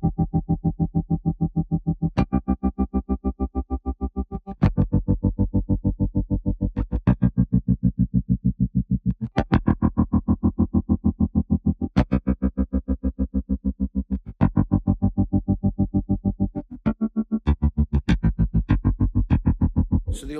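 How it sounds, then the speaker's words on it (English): Electric guitar chords pulsing rapidly through a tremolo effect, a steady choppy throb with fresh strums every couple of seconds, distorted and continuous. "So the old tremolo pedal"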